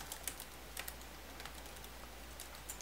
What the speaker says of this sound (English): Enter, and then type in the password.